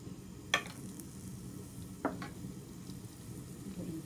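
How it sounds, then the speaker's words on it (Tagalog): Garlic sautés in a tablespoon of vegetable oil with a soft, steady sizzle, broken by two sharp utensil clinks against the pan and some light stirring. "Lalagay ko po itong 1 tablespoon na vegetable oil po. Lagay po natin ang bawang."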